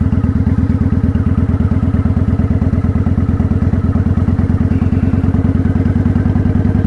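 A motorcycle engine idles and runs at low speed with a little throttle and the clutch partly out, a loud, close, rapid thumping putter that stays steady throughout.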